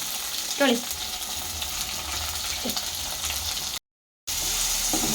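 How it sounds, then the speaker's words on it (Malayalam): Ginger, garlic, curry leaves and green chili being stir-fried in a pan, giving a soft continuous sizzle with a few brief scraping stir strokes and a short dropout near the end. "ഇതെല്ലാം കൂടെ ഇട്ടിട്ട് നമുക്ക് ജസ്റ്റ് ഒന്ന് അങ്ങോട്ടും ഇങ്ങോട്ടും ഇളക്കിയിട്ടെടുക്കാം."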